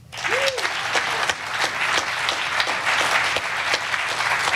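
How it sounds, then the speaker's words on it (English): Sustained crowd applause and clapping for the Space Force's chief master sergeant, steady and dense throughout at an official event, with a brief vocal tone near the start. "how about a round of applause for Chief Master Sergeant Roger Tauberman"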